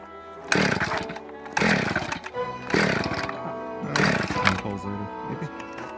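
Repeated pull-start attempts on a Husqvarna 257 chainsaw used for ice cutting: five loud, rhythmic rasping cord pulls about a second apart, close by, with a spluttering sputter between pulls but no sustained running.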